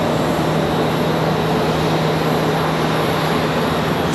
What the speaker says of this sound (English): Got American Airlines 1952 coming in from Los Angeles, an A321.